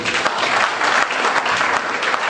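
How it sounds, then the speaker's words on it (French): Church congregation applauding during a service, a dense continuous wave of clapping from many hands at steady loudness throughout, with no voices standing out. "Acclame pour toi-même."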